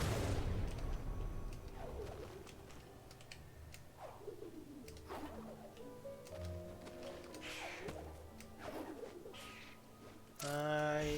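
A pigeon-like bird coos in a video game, soft repeated rolling calls spaced across the clip over a low droning background, ending in a sudden louder burst of sound.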